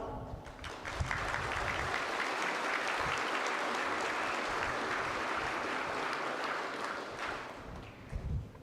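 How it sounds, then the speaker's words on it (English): A large crowd at a college graduation ceremony applauds steadily, a dense wash of clapping that holds for several seconds before tapering off with a few scattered claps. "I kindly implore you all to give the graduates of 2022 an immense round of applause"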